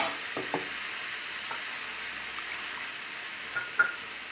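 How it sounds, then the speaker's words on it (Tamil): Cluster beans sautéing with a ground paste of coconut, dried red chilli, cumin and peanuts in oil, a steady soft sizzle with a few faint stirring scrapes and clicks, close and fairly quiet, no talking. "எண்ணெயிலே இது ஒரு 2 நிமிஷம் நல்லா வதக்கணும்."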